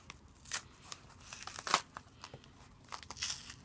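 Skin being peeled off a green plantain for Jamaican-style fried plantain, a run of soft crinkling, tearing rips and small crunches, close and fairly quiet, with no talking.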